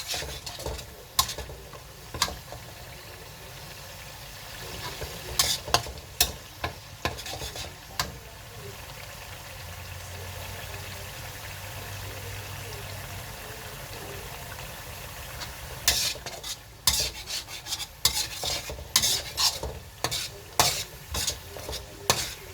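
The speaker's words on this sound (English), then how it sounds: "Just make sure you mix it around every now and then, just to prevent the onions to be burnt" Onions for a homemade chicken curry frying in a pan, with bursts of spatula scraping and clinking over a low, steady sizzle, quieter in the middle stretch and close by.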